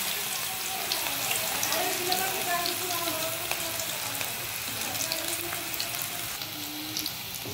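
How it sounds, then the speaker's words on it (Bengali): Coriander leaves coated in batter sizzle in hot oil for a dense, continuous crackling hiss that holds steady and close throughout. "এবার আমি গরম তেলে ধনে পাতাটাকে ছাড়বো ধনে পাতাটাকে ছেড়ে দিলাম"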